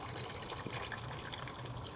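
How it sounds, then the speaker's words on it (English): Water is poured into a pot on the stove for boiling smoked eggplant, a steady soft splashing and trickling wash that stays even and fairly quiet throughout. "So I'm gonna turn on the heat and add some water"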